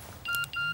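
A mobile phone gives two short, bright tonal beeps in quick succession for an incoming text message, close and clear with nothing else around them.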